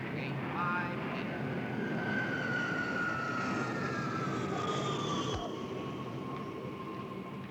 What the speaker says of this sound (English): Texas International Flight 57, now arriving.